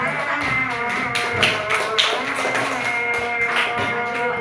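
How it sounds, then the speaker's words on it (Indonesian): Students in a classroom applaud a presenting group, a dense patter of close clapping that holds steady for several seconds with no speech over it. "sekarang berikan aplaus untuk kelompok 2"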